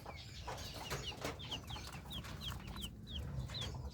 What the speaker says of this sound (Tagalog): Yan po yung mga alaga nating Brahma dito sa ating mini backyard.